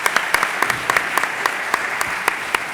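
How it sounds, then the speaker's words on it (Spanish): Applause at a university assembly, a moderate crowd clapping in an irregular, fairly close patter of sharp claps, steady throughout with no voices. "yo creo que debemos también un aplauso como al resto de los intervinientes"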